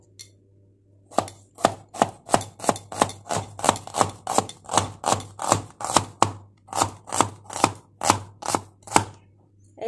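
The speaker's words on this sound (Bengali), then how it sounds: "প্রথমেই আমি পেঁয়াজ কেটে নিচ্ছি" A knife chops onions on a board in a quick, even series of about twenty crisp, close strikes, briefly pausing partway through, with no voices over it.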